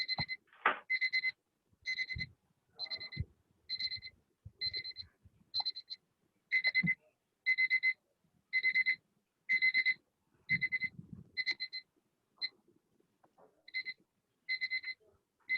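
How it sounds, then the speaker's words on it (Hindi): A phone alarm rings during a classroom lesson, repeating short bright double-tone beeps in a steady rhythm, with occasional faint knocks and rustles underneath. "किनका अलार्म बज रहा है?"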